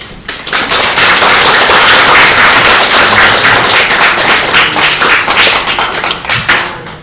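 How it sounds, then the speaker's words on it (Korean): A church congregation at a Sunday worship service claps in welcome as the pastor comes forward, a dense, loud wash of many hands sustained for about seven seconds and thinning slightly toward the end. "목사님 나오실 때 환영의 박수로 함께 드리도록 하겠습니다"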